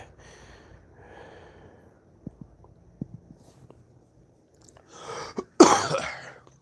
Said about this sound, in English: Sorry, sorry, everybody, coughing in your ear there.